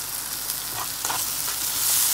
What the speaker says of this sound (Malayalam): ഈ ഒരു സമയത്ത് ഒരു തക്കാളി ചോപ്പ് ചെയ്ത് ആഡ് ചെയ്യാം